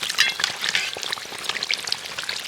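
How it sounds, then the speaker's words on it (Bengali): Eggplant fritters (beguni), batter-coated slices of eggplant, fry crisp in hot oil, giving a dense, steady crackling sizzle up close with no voices. "এবার বেগুনিগুলোকে উল্টে দেবো আর উল্টে পাল্টে খুব সুন্দর করে মুচমুচে করে ভেজে নিতে হবে"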